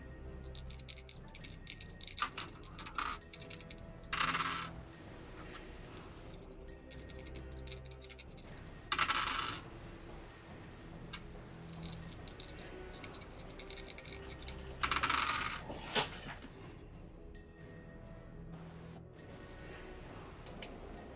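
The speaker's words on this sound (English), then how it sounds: "Let me just roll some dice real fast." Dice clatter and rattle across a table during a tabletop role-playing game session, several short bursts of rolling over about twenty seconds, close and moderately loud, with a steady background of soft clicks and faint music.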